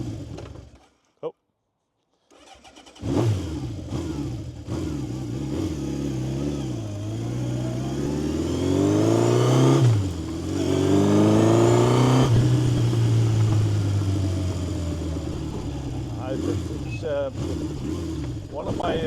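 A 1970 Honda CB750 K0 motorcycle engine, fully rebuilt, starts with a sputter, then idles roughly and revs up and down, loud and close, with someone talking over it.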